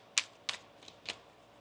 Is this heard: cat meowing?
no